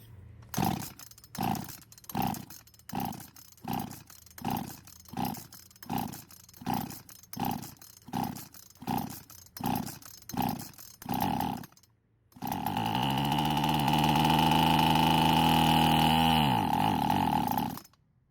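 A chainsaw's small engine sputters through a dozen rhythmic pull-start attempts, pauses briefly, then roars to life and runs steadily at high revs.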